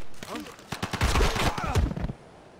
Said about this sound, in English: let's start to machine gun the crap out of this guy